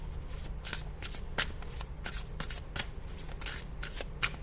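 Tarot cards are shuffled by hand, a quiet series of crisp riffling flutters and soft taps spaced irregularly over a low steady background hum.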